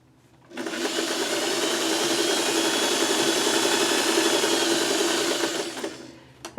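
A sewing machine runs steadily at regular speed while piecing crumb quilt fabric scraps, a continuous close whir lasting about five seconds before stopping, with no talking.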